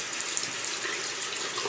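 Tap water runs steadily as hands are rinsed at a sink after a traditional wet shave, a continuous hiss with no voices over it.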